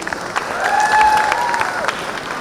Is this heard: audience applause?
yes